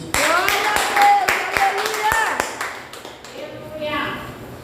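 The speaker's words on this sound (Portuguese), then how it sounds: "uma salva de palmas para Jesus." A church congregation at a sermon in Campinas claps together over a few seconds, the applause mixed with sharp individual claps and talking voices, then tapering off.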